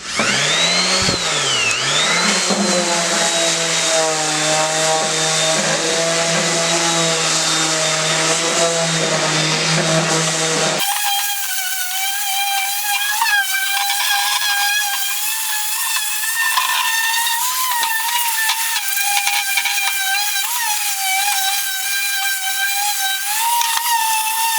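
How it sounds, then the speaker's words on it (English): Motor-driven sanding of a wooden table with 120-grit sandpaper: a loud, continuous whirring whine with shifting pitch that runs unbroken throughout, with no talking over it. "What I have here is some 120 grit sandpaper that I'm going to start sanding this table with."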